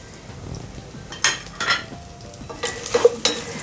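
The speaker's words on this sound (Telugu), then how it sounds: "సో ఇప్పుడు ఈ మసాలా దినుసులన్నీ మనం ఇందులో వేసుకుందాము" Whole spices, including cloves, mace, black cardamom and star anise, go into a pan of frying onions for a Hyderabad-style vegetable biryani, giving a soft, steady sizzle with several brief scraping stirs and utensil clinks close by.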